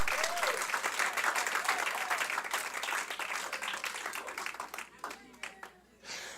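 Applause for the Consulate singers at an awards ceremony, a crowd clapping steadily with individual claps audible, with a voice cutting through partway before the clapping thins and tapers off near the end.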